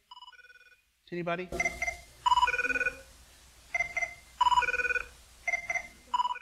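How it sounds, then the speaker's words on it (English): The ringtone from the TV show 24 plays as repeated bursts of bright, electronic ringing in a steady rhythm. It sounds through a room's speakers, with a short bit of speech at the start. "It's a ringtone, but it comes from a particular program."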